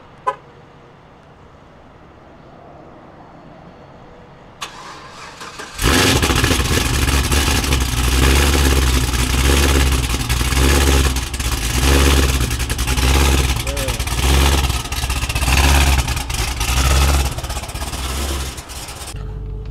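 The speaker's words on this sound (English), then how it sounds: "Cold start." A Cadillac CTS-V engine cold starts, cranking over and catching with a sudden loud roar, then settles into a deep, rumbling idle that continues steadily.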